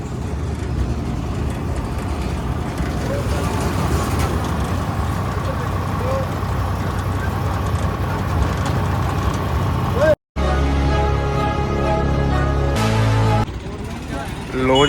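A tractor engine runs with a steady, close rumble and drone, briefly cutting out before resuming with a sustained tonal hum toward the end.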